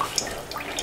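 Juice dripping from a juice press, with faint, sparse drips and trickles close by and no voices.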